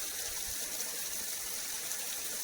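Water gushes steadily through a filtered hose fed by a jungle stream at Tayrona, a close, continuous broadband rush with no voices.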